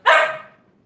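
One sharp, close dog bark, loud and brief, fading quickly into quiet.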